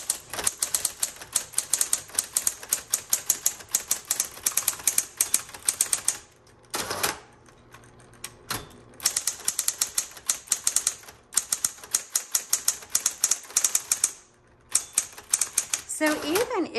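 Rapid, crisp clacking of a 1970s Smith Corona Electra 210 electric typewriter in bursts, with brief pauses and carriage-return sounds between runs of keystrokes.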